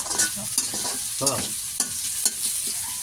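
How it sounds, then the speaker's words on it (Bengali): Spice paste sizzles in a pan for a river fish curry while being stirred, a steady frying hiss broken by quick scraping strokes, close and continuous, no voices. "এই পেস্ট তাড়াতাড়ি কষান"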